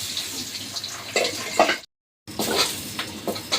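Potato pieces fry in oil in a pan with a busy sizzle and crackle, stirring clatters now and then, and a brief silent gap splits the sound partway through.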